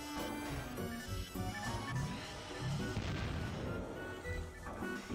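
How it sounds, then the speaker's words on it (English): A big explosion from the Phantasy Star Online video game plays as a dense, loud, sustained rumbling crash lasting several seconds, layered with booming game effects. "Big explosion sound effect."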